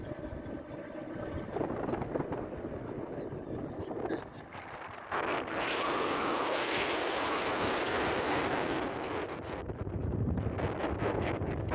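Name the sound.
cool wind blowing during auto ride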